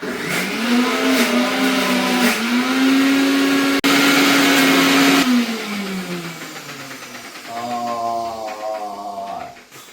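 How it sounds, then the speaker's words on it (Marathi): A mixer grinder whirs loudly as it grinds a garlic masala paste, its motor whine rising and holding for several seconds, cutting out, then starting again for a shorter second run. "मिक्सरचा आवाज येतो कसा"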